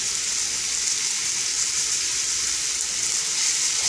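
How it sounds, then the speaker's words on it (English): Green onions and other vegetables sizzle steadily in a hot pan for shakshuka, with a continuous bright frying hiss and soft scraping as they are stirred, close and fairly loud with no talking. "Just going to stir this up until the vegetables start to wilt"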